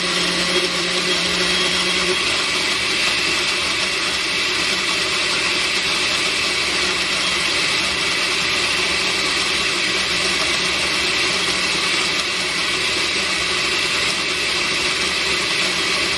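A blender on its puree setting grinds roasted peanuts into peanut butter, producing a loud, steady, close motor whir with gritty churning that holds without a break throughout.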